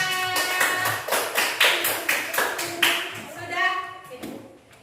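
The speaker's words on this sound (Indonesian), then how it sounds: "Tepuk tangan untuk kalian semuanya." Students clap together in a classroom in a series of sharp, rhythmic group claps, loud and close, with voices mixed in among the beats.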